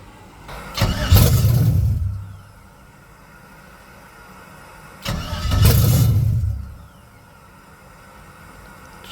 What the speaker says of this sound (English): Just fires up and dies.